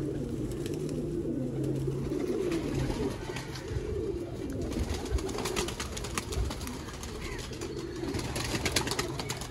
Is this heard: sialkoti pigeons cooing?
yes